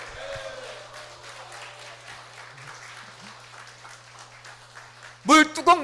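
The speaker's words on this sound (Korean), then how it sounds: "여러분께 박수, 서로에게 박수" A church congregation at a New Jersey worship gathering claps together in a steady, moderately loud wash of applause that fills the room, with a few voices calling out near the end.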